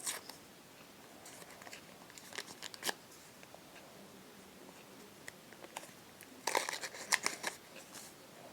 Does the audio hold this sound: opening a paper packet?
yes